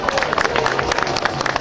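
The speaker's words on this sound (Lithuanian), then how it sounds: "Plojimai Vilniškiams" Applause from a crowd greeting the delegation from Vilnius at a 2012 gathering of former deportees in Ariogala, a dense, steady patter of many hands clapping at once, filling the space without a break.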